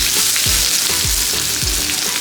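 Onion, tomato and green chillies sizzle in hot mustard oil, a steady dense crackle with soft rhythmic stirring scrapes in the pan, close and fairly loud.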